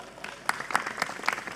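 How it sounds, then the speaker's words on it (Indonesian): A small audience at an Indonesian religious gathering gives a sparse round of clapping, a handful of distinct claps scattered over a low murmur, fairly quiet and close. "Tepuk tangan dulu dong."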